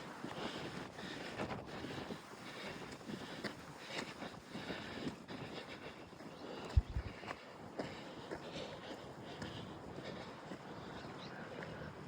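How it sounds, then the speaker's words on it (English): Wind gusts high on a mountain hiking trail, a faint, continuous buffeting rush against the microphone with one brief low thump partway through and no talking. "Starting to get that wind up here."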